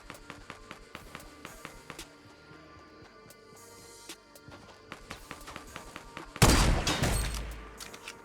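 Sniper gunshots in Fortnite: Battle Royale, with rapid light footstep taps throughout and one loud, booming shot near the end that rings out and fades.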